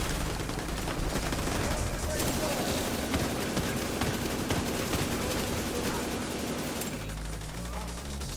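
Rapid bursts of video-game gunfire shooting down flying enemies, a dense continuous barrage of shots mixed with game effects throughout, with a voice talking over it.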